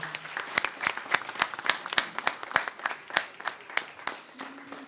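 Audience at a Bayonne city council meeting applauds for a departing colleague, a modest group of distinct, fairly sparse claps in an irregular patter, heard near and fading slightly toward the end.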